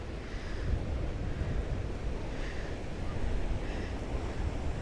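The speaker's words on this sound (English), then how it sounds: "Waves are breaking over the rock platform." Ocean waves breaking over a rock platform by an ocean pool at daybreak, a continuous rushing wash of surf with faint swells of spray, under steady wind noise.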